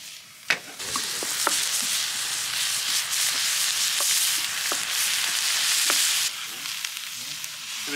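Italian sausage, mushrooms and beef being stirred as they fry in a pan over a campfire: a steady, loud sizzle with scattered scrapes and clanks from the utensil against the pan.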